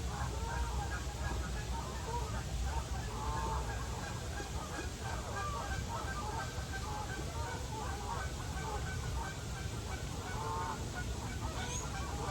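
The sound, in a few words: goose honking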